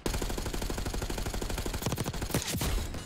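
Rapid automatic gunfire in the video game Black Ops 6, a loud sustained burst of evenly spaced shots, followed by a few heavier blasts near the end.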